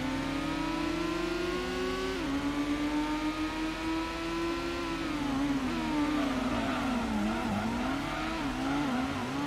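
Honda NSX and Dodge Viper race car engines in Gran Turismo at night, a steady loud droning whine that climbs with each gear, dips on shifts, and wavers through corners, heard alone and close.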